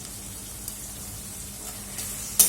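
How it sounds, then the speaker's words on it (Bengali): Lote fish frying with cumin and coriander powder gives a steady, soft sizzle throughout, with a brief louder crackle near the end. "ভেজে দেবো মশলার সাথে"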